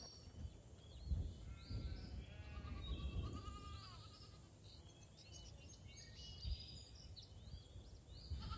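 Lambs bleating in the Hay Day farming game: faint, soft bleats mixed with light chirpy game tones and a low background hum.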